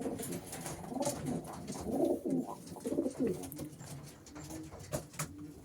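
Soft, repeated racing pigeon coos rise and fall in short phrases, fairly close, over a faint outdoor background.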